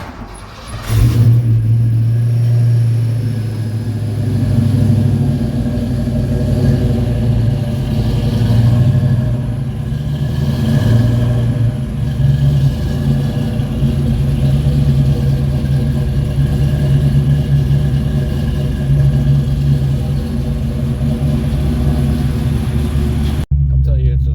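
A Ford Fox body car with a 3G alternator and front chin spoiler runs steadily, its engine a loud, continuous low rumble that rises and falls slightly throughout before cutting off abruptly.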